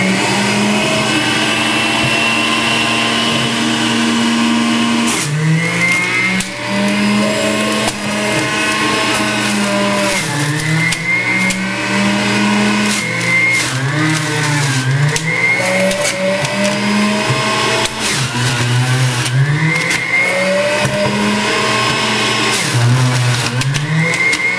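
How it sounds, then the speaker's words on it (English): Breville JE98XL juicer running at high speed on apples and oranges: a loud, steady motor whine that dips and recovers repeatedly as fruit is pushed into it, continuing for the whole stretch. "I'm going to set the speed to high and start juicing."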